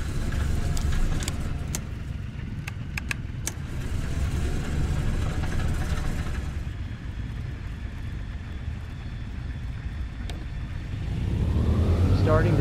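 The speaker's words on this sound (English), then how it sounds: "Starting engines." C-47 aircraft engines run on the ramp at NKP, heard from inside the cabin as a loud, continuous low drone and rumble that swells again near the end.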